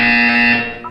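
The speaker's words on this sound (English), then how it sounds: "When you hear the buzzer, look up at the ceiling" A loud, steady electronic buzzer from the Portal 2 video game sounds for about a second, a harsh tone rich in overtones, followed by a short chirping blip at the end.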